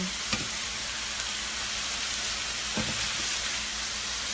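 Chicken pieces browning in a frying pan for Margherita chicken, giving a steady, close sizzle and hiss with a few soft clicks or stirring taps, no voices.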